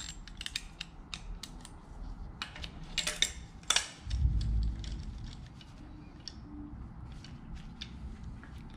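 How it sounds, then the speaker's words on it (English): Piston stop being threaded by hand into a spark plug hole of a Ford 4.6/5.4 DOHC Mustang V8 with a 5/8 spark plug socket: scattered close metallic clicks and scrapes, a louder clatter midway followed by a low thump, in a quiet garage. "Now install a piston stop with 5/8 spark plug socket."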